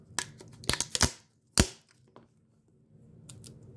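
Sharp metallic clicks and scrapes, a quick cluster followed by a louder snap, as a Pokémon Galar Power mini tin lid is pried open close by, then quiet handling.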